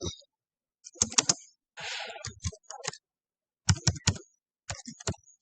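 Typing on a computer keyboard while filling in an email field of a Google Form, heard as close, dry bursts of key clicks separated by short pauses, with no talking.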